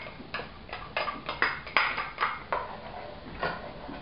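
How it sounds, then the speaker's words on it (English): One large chopped onion and three minced garlic cloves cook over medium heat in a pan, with a utensil clinking and scraping against the metal in about a dozen sharp, evenly spaced knocks over a soft background hiss. "over a medium heat, I'm going to saute one large chopped onion and 3 garlic cloves minced"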